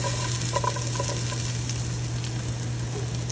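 Garlic and peppers fry in a pan alongside onions for a Latin-style ratatouille, giving a dense, even sizzle up close over a steady low hum, with a few soft stirring taps and no speech.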